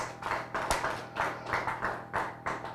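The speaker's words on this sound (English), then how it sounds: "Can we give him a big clap?" An audience at a read-a-thon launch event at a regional library claps in short, rhythmic bursts, close and fairly loud, each burst rising and fading in a steady pattern.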